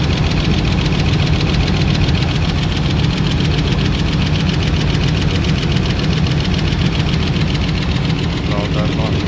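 A Dodge Ram 5.7 Hemi V8 runs steadily at idle under repair, a dense, even rumble with a faint ticking knock running through it. The engine is loud and close and fills the whole stretch without a break.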